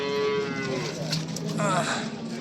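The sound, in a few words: cow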